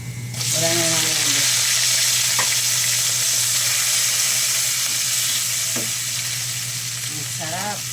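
Shrimp cooking in a pan, a loud steady sizzle running throughout with a few brief clinks and scrapes of stirring.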